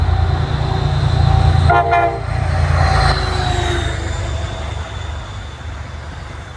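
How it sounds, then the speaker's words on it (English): A westbound MBTA commuter train passes through Mansfield on the Northeast Corridor, a loud steady rumble of rolling cars with a brief horn blast partway through, the noise slowly easing as it moves on. "we see a westbound MBTA commuter train passing through Mansfield"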